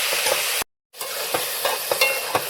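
Tomatoes, onions and long-cut green chillies sizzle and crackle in a pan, with steady frying hiss and a few stirring scrapes after a brief silent gap.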